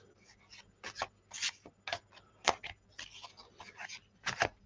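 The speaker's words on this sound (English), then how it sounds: "Let's give them a good shuffle." Tarot cards are shuffled by hand at close range, a series of quick riffling and sliding bursts separated by short pauses, quiet and alone.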